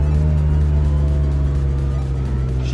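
A car engine holds high revs at a loud, steady pitch as the exhaust opens up near 3,500 rpm, a continuous throaty drone with strong low harmonics, close and without talk.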